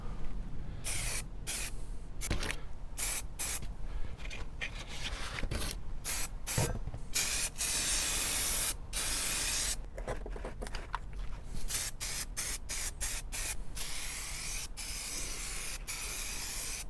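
Repeated bursts of degreaser spray hissing from a can onto stuck hardware, some short spritzes and some longer sustained sprays, close and fairly loud with brief pauses between.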